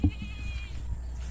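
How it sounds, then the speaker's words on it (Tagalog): A goat bleats once, a short wavering cry near the start that trails off over quiet outdoor background, with no talking. "So, may kambing sila kin dito. Kambing."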